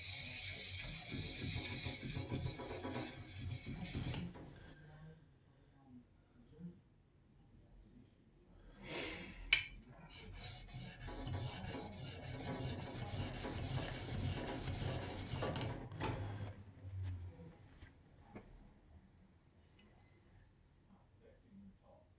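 A plane iron is rubbed back and forth on a DMT DuoSharp diamond plate to feather the edges, giving a faint, continuous scraping rasp in uneven strokes with short pauses.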